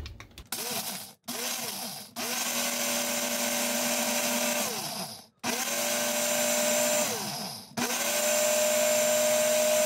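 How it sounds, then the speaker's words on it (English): A blender grinds dehydrated carrots into powder, running in a loud, steady whine through several long bursts with brief pauses between them and a rising hum each time it spins back up. "I could grind this one more time and get it really fine"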